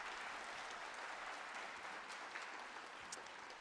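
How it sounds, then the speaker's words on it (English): An audience at a college district convocation applauds its trustees, steady dense clapping that holds evenly throughout, with no speech over it. "Will you please join me in a round of applause for these leaders?"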